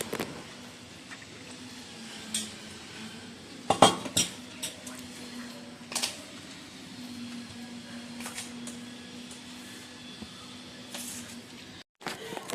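Plates and cutlery clink sporadically during a home Bengali meal of rice with mango oil, Malabar spinach with prawns, dal and potato fish curry, with light scrapes and taps over a steady low hum and no talking.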